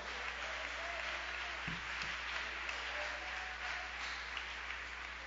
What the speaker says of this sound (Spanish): Dale palmas al Rey de Reyes.